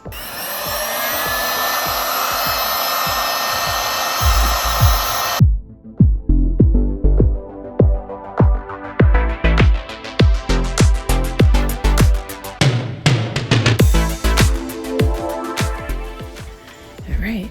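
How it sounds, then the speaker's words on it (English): A heat gun smoothing the top of a large five-wick coconut beeswax candle blows with a loud, steady roar for about five seconds, then cuts off, followed by a run of sharp knocks and clunks. "I'm going to grab my heat gun and we are going to even everything out"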